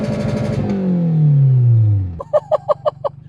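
A car running on movie theater popcorn butter instead of engine oil, its transmission failing: a loud engine note sweeps steadily downward, then breaks into a rhythmic series of harsh knocking pulses.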